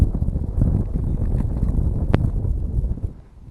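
Gusty wind buffets the microphone at a rock quarry pond, a loud low rumble that holds steady and then eases off near the end.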